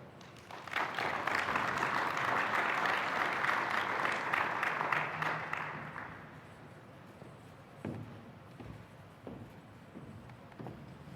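An audience at a business talk applauds to welcome the speaker, a warm roomful of clapping that swells, holds for about five seconds and fades, followed by a few footsteps and soft stage knocks.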